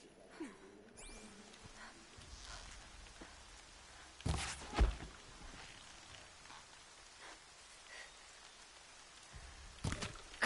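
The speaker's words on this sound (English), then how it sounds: "And there's the rain." Rain falling in the video game Horizon, a steady soft patter on surfaces running throughout, with a few louder thumps and footstep-like knocks in the middle and near the end.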